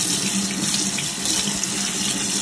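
Tap water pours steadily from a faucet into a sink while cleaned whiting fish are rinsed, a continuous close hiss and splash with no talking.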